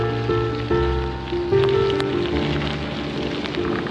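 Steady rain falling during a bike ride along the Canal du Midi, a dense, continuous hiss of drops close by with faint tonal hum underneath.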